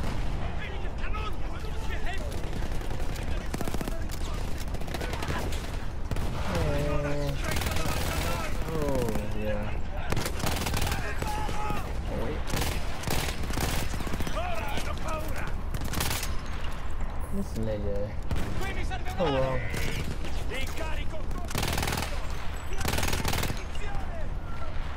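Rapid machine-gun fire in Battlefield 1, in the Avanti Savoia! War Story, loud and dense: continuous bursts of shots mixed with heavier blasts and explosions over the whole stretch.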